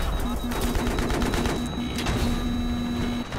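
Gunfire in the video game Battlefield 3 on the Alborz Mountain map, with rapid bursts of automatic shots and sharp cracks layered over a steady mechanical hum, loud and close.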